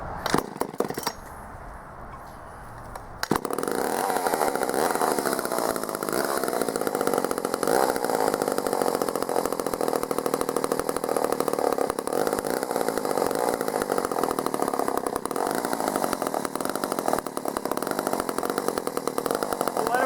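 A vintage Poulan 306A chainsaw, a free find from the dump, roars to life after a brief quiet start and runs loud and steady at close range for most of the stretch, with no talking over it.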